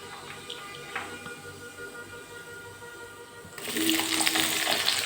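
Mustard and cumin seeds sizzling in hot oil, a steady close frying hiss that jumps to a louder, brighter crackle partway through, with no talking.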